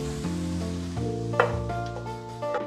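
Shredded cabbage wilting in a hot pan gives a soft, steady sizzle with a few brief stirring clatters, close and quiet, with a faint tonal hum underneath.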